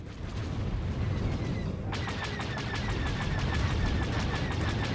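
Rapid automatic gunfire rattles in a video game battle, dense bursts of shots that intensify sharply partway through and keep going loud and close to the end.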